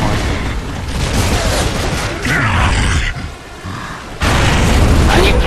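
Grenade explosions in a multiplayer shooter game, heavy booming bursts and blasts in a dense loud mix, with a quieter lull before the blasting returns.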